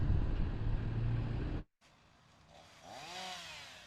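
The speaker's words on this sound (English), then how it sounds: "The sound of chainsaws shredding into hanging limbs" Chainsaws cutting into hanging tree limbs after storm damage in Little Rock, a loud steady engine drone for the first stretch, then after a brief cut a fainter, distant saw whine rising and falling.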